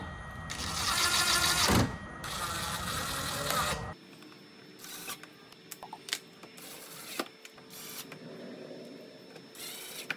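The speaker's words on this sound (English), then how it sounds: "We just simply gonna run screws in already." A powered driver runs screws into a golf cart headlight on a 2000 EZ GO TXT, with two loud bursts of whirring followed by quieter clicks and faint handling noises.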